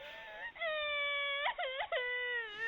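A voice imitates a squirrel crying in a children's story, with a sustained high, wavering wail that breaks into a couple of sobbing hitches before trailing off.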